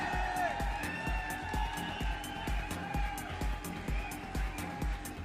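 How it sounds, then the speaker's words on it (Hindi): A crowd at a network marketing training event claps steadily and rhythmically over background hall noise, with loud scattered cheering on top. "बहुत तालियां बजती रहे जोरों से"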